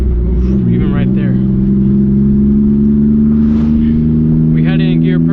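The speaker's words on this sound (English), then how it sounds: "We had it in gear perfectly, still made a little clunking sound." A Mitsubishi Eclipse GTS with a faulty manual transmission drones steadily in gear while driving, the engine hum continuous and loud, with small knocks from the drivetrain faintly mixed in and people speaking over it.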